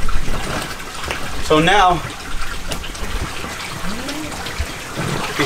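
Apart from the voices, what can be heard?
water poured into a bag holding a giant pacu fish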